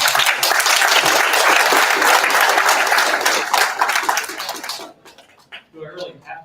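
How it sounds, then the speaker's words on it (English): An audience at a fall 2021 AI club kickoff breaks into loud, sustained applause that tapers off after about five seconds, followed by a brief voice. "So please give applause for our."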